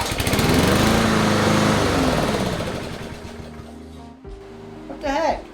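A Husqvarna HU800AWD lawn mower engine starts up loud and close, running roughly for a few seconds before it sputters and cuts out, with a brief voice afterward.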